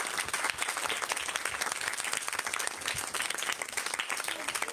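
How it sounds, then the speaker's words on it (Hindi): Children at a ceremony give a burst of applause, dense steady clapping from a group that continues throughout without pause. "तालियां बजाओ।"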